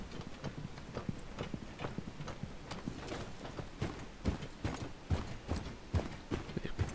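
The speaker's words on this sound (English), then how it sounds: "With great thumping footsteps." Heavy, thumping footsteps from a player in Rainbow Six Siege fall in a steady, rhythmic walking pace, fairly faint against a noisy game background.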